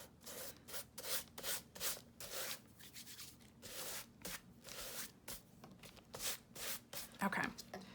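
Something rubbed into a Bible journaling page by hand or with a tool, giving a series of soft papery rubbing strokes in bursts, close and quiet, with a voice talking faintly at times.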